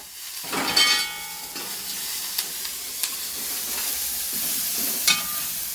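Onion, chilies and curry leaves fry in a pan for a Kerala raw jackfruit stir-fry, giving a steady close sizzle with scattered sharper crackles and pops, with no talking.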